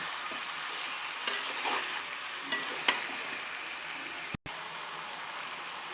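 Chicken cooking with meat masala in a pan, a steady close sizzle with a few sharp clinks from the spatula.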